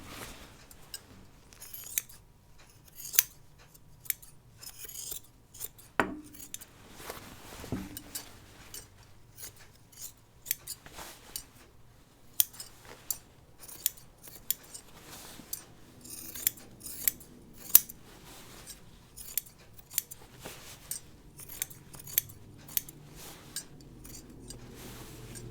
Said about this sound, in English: I may have to trim this a little bit more.